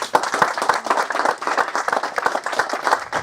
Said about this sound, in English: Don't have to clap yourself